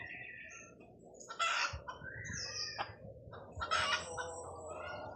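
Several backyard gamefowl hens cluck close by while Boston Roundhead roosters crow twice, their calls loud and overlapping against a busy farmyard background.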